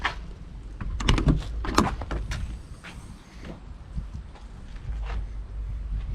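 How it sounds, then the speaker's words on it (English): A 2016 Thor Hurricane 34J motorhome's main compartment door is handled and swung open up close, with several sharp clicks and rattles of a latch followed by a brief creak and softer handling noises. "you just got to open up this main door here"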